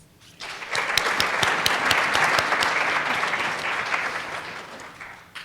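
Sustained audience applause for a speaker being welcomed to the stage at a youth conference, a dense, loud wash of many clapping hands that swells quickly, holds steady and begins to thin near the end, with no talking.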